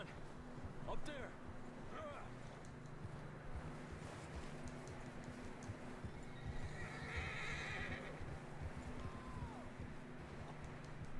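A horse neighs and its hooves clip-clop in the open-world Western video game Red Dead Redemption II, with whinnies rising over steady outdoor ambience of wind and water, and a voice talking softly underneath.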